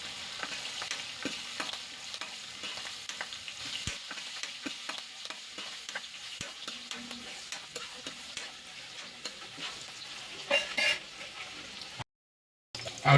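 Asafoetida and finely chopped green chili sizzle steadily in a hot oil pan while being stirred for a Gujarati guava curry, with frequent spoon scrapes and clicks over the continuous frying hiss.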